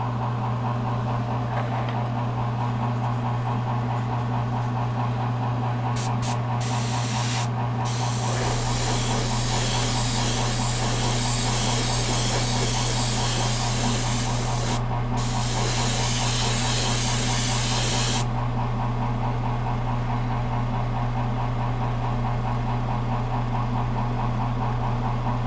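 An airbrush or spray can misting paint onto a model, giving a steady hiss over a constant compressor-like hum, with one long spray burst and a second shorter one.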